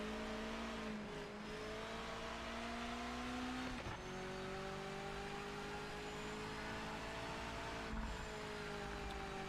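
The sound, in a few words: damaged race car engine in Project Motor Racing video game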